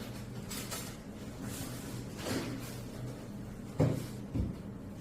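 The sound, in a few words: top cover of a beehive being opened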